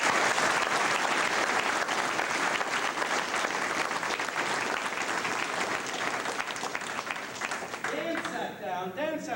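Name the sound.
audience applause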